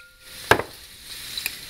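Brown sugar being stirred into teriyaki sauce for beef and broccoli, with a quick scraping clink of a utensil against the bowl and then a few faint taps and scrapes over light room noise.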